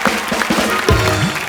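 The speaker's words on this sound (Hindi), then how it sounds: "तो जोरदार तालियां प्लीज।" A studio audience on a comedy show claps in a dense burst of applause, loud and continuous throughout, with a brief voice tone cutting in midway.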